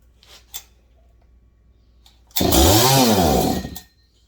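A small two-stroke Husqvarna 61 chainsaw engine sputters a couple of times, then revs loudly for about a second and a half before cutting out, heard up close.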